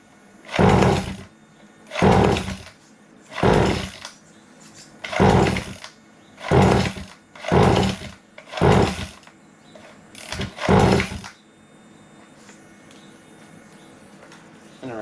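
An engine that has sat unused for over two years cranks on its starter without catching, about eight separate whirring bursts roughly a second each with short pauses between, loud and close, then a quiet idle hum.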